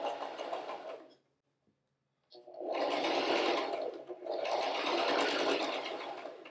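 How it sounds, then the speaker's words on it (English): Close sewing machine stitching through quilt fabric: one burst, a short silence, then a longer steady whirring run with a brief dip midway. "I'm holding the threads and we're just going to start sewing."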